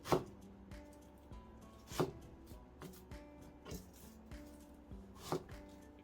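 A knife cuts through an onion on a cutting board in a few quiet, crisp chops with short pauses between strokes, close and fairly faint with no talk.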